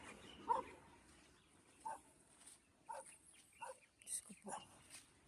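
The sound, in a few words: dog barking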